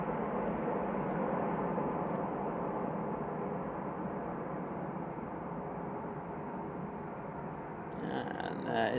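An Emirates airliner taxiing at Manchester Airport, heard as a steady, fairly distant jet engine roar that holds evenly throughout, with a brief burst of other noise near the end.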